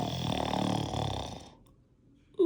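A voice imitates a single drawn-out snore, a rumbling nasal rasp that fades into silence before a brief sound at the end.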